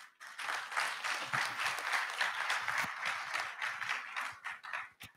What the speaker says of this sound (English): Big round of applause to our panelists.